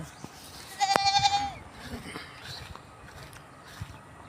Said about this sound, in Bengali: এটা ছাগল, ওই যে ছাগলগুলো আছে